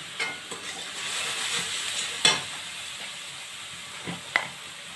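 Ground coriander, chili powder, salt and turmeric fry with cauliflower, potato and peas in a pan, giving a constant close sizzle broken by a few sharp spatula scrapes and knocks.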